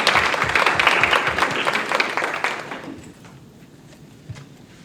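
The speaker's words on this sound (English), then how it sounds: "We can clap for them." An audience at a school board workshop meeting claps warmly for a couple of seconds, a dense patter of many hands that thins out and fades to scattered claps and room quiet.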